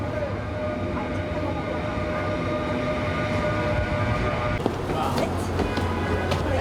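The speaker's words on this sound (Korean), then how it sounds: "청량리역에서 출발한 무궁화호 열차가 플랫폼에 도착합니다." A Mugunghwa train from Cheongnyangni Station pulls into a platform, a steady rumbling roll with a sharp clunk about two-thirds of the way through. A brighter metallic rattle follows.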